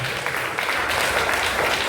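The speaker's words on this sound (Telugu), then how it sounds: "చప్పట్లు." Continuous applause from the crowd at a yoga competition programme, even and sustained at moderate loudness from start to finish.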